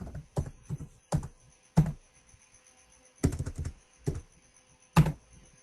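Keys being typed on a computer keyboard, a sparse run of crisp clicks in small clusters with pauses between, close and fairly quiet, with no talk.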